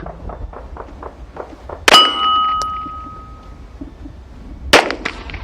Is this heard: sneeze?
no